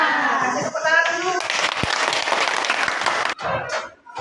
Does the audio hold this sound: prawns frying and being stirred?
no